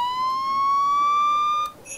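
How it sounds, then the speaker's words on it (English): Police car siren in the racing game Forza Horizon 3, a single clear rising electronic tone held for about a second and a half before cutting off, followed by a brief different beep. "Now I want the police siren"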